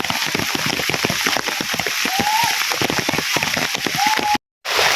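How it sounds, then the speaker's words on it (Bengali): Heavy rain pours down in a village beside a market, a dense, steady roar of drops hitting surfaces that stays loud and close throughout, with a brief break near the end. "কিচ্ছু দেওয়া যায় না, এত পরিমাণ বৃষ্টি হচ্ছে।"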